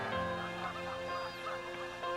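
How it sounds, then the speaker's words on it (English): Geese honking in a loose, overlapping chorus while flying south over a Wyoming river valley in early morning, moderately distant and alone over a soft musical backdrop. "the geese are flying south"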